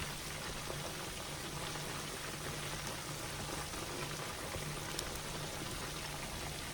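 Halal Japanese karaage chicken fries in hot oil, a steady, even crackling sizzle like light rain that continues throughout with no voices.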